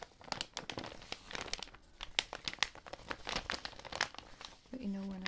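Paper envelope being crinkled and handled up close, a dense run of crisp crackles and rustles with a brief tonal sound near the end; no one speaks.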